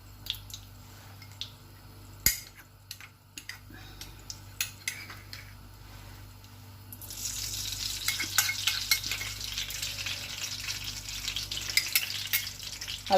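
Red palm oil heating in a pot for ogbono soup, quiet ticks and clinks of a utensil at first, then a soft steady sizzle and crackle rising and holding.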